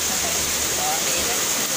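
Rushing floodwater during a flood at home, a loud, steady broadband roar like a waterfall or heavy downpour filling the whole moment, with faint voices mixed in.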